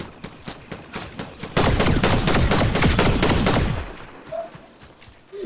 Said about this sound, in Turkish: Kim ateş ediyor?